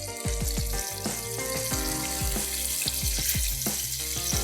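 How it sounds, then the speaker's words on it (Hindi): Fish deep frying in hot oil in a pan, a steady loud crackle and bubbling sizzle throughout with rapid popping spatters, close and continuous. "जो फ़िश है उसको भी हम कर रहे हैं डीप फ्राई"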